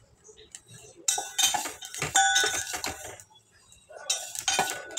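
Kalonji (nigella) seeds dry-roast in a pan, rattling and clinking in bright bursts as they are stirred, with quieter gaps between the scrapes.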